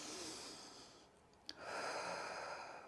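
Slow breathing while holding a postpartum yoga pose: a long, airy exhale, a brief catch, then another steady breath drawn in close to the microphone.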